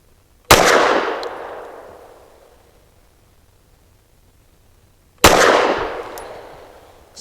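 Two loud, close pistol shots from a BRG9 Elite Gen 2 firing Elite Defense 115 grain cartridges, several seconds apart, each a sharp crack followed by a long fading echo.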